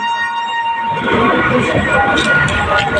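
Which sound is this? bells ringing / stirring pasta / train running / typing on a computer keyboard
train running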